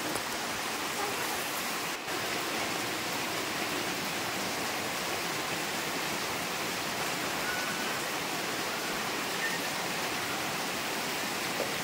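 Heavy floodwater pouring and rushing into a home during a flood, a steady, dense broadband roar that holds unbroken for the whole stretch, close and loud, with no voices.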